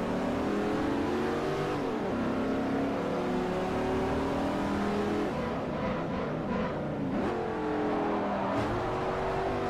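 A green Audi sedan in Forza Motorsport 4, engine droning loud and continuous as it accelerates through gear changes, with pitch dropping and climbing again at each shift.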